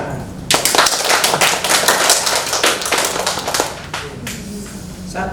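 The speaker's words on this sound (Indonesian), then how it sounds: "tepuk tangan" A small group at a school assessment meeting in Maumere claps in a burst of brisk, fairly close hand clapping that lasts a few seconds and then tapers off.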